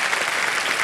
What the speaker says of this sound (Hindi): संदीप जी, तालियां बज जाए इनके लिए